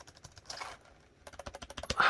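Typing on a computer keyboard fitted with o-ring sound deadening: quiet, rapid clusters of soft keystrokes, a short burst, a pause, then a faster run, close by with no talk.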